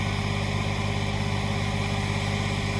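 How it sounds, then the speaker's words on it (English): Diesel tractor engine running steadily through its first exhaust filter regeneration, a constant low rumbling drone with no letup and no voices. "Tractor just started its first regen at 40 hours."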